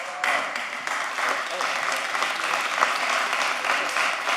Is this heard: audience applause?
yes